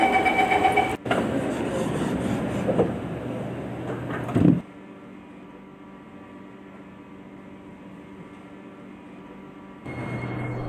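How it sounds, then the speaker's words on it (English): In the OpenBVE train simulator, train doors slide shut with a sharp thud and a brief rumble, and the carriage then settles into a quieter steady hum until a noise starts up again near the end. "Doors are closing."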